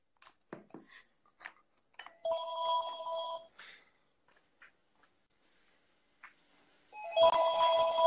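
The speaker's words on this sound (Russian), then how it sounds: "Дед, телефон." Telephone bell rings in two bursts with a pause between, close and clear, amid sparse rustling and small handling noises in a quiet room.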